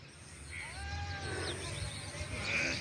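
A goat belonging to an uncle bleats at a rural Philippine homestead, a few wavering calls rising and falling over steady low outdoor background noise, fairly close and moderately loud.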